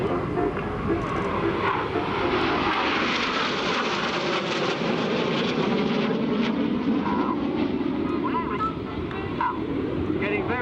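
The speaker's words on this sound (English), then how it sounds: "Now the 5th aircraft rolls around them 12 times. This is the Twister." Red Arrows jets flying the Twister at an air show, one aircraft rolling repeatedly around a four-jet box formation; a loud, steady, broad jet-engine roar fills the whole stretch while a commentator talks over it.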